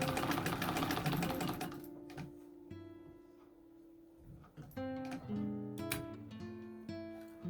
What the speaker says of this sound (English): it treadles really nicely, and I can easily start and stop sewing without grabbing the hand wheel every time